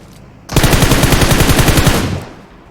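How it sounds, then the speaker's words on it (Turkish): Rapid automatic gunfire from PUBG Mobile, a loud sustained burst of evenly spaced shots lasting about a second and a half before cutting off, with no talk over it. "Dağda atış var."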